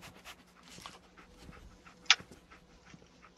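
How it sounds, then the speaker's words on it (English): Dogmeat, the dog companion in Fallout 4, pants softly and sniffs at a scent, with quiet, irregular breaths and one brief sharp click in a hushed setting. "Dog meat. Get the scent, boy."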